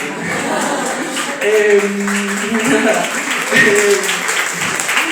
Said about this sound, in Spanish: estos momentos de aplauso que son como de TEDx